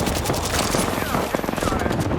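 Rapid video game gunfire rattles loudly and continuously as dense automatic bursts layered with explosions, under excited talk.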